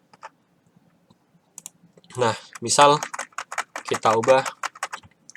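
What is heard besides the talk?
typing on a computer keyboard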